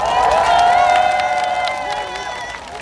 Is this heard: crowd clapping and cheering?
yes